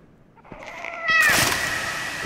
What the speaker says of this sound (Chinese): 小猫咪又被压死了